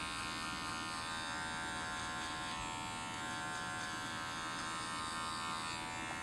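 Electric hair clippers run steadily while cutting hair during a skin fade, giving a continuous close buzz with no pauses.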